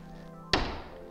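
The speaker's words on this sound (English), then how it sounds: "And I'm just gonna tap it over. Couple shots through the shim." A single sharp nailer shot drives a nail through a wooden shim while a pre-hung door is installed, one loud close impact with a brief ringing decay over a low steady background hum.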